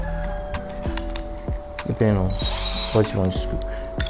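A HILDA cordless drill whirs in a few short, loud bursts, rising and falling in pitch, mixed with ratcheting clicks and close speech.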